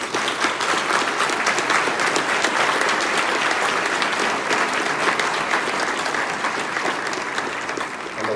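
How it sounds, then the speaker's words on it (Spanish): Audience at a paleobiology symposium in Mexico applauding, a loud, dense, sustained round of clapping from a full room that continues evenly for several seconds before easing off slightly. "Un aplauso, por favor"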